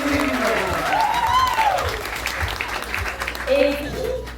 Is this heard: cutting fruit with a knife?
no